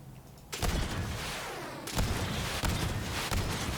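Rapid bursts of launcher fire in a Borderlands-style shooter, loud and dense, a quiet lead-in before a sustained barrage that keeps blasting with fresh sharp shots every half second or so.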